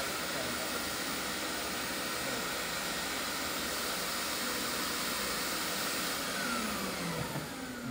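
A shop vac running as workshop dust extraction gives a loud, continuous whooshing roar with a high whine, unbroken and steady from start to finish.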